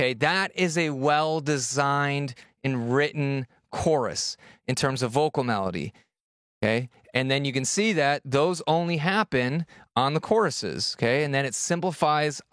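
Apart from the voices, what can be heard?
No distinct noise like a dog, phone or traffic.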